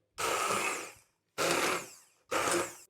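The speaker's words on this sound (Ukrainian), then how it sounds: "ми будемо робити кулінарну хитрість, перебивати гречку блендером" A powerful 1200 W blender at maximum speed grinding buckwheat into a purée, running in three short bursts of about a second each with brief silences between, loud and close.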